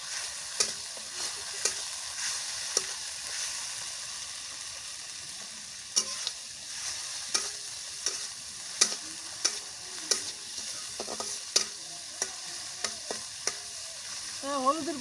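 Garlic and cumin paste sizzles in a pan for a rustic village dish of Malabar spinach with shrimp, a close, steady frying hiss broken by regular scraping taps of a spatula stirring the mixture.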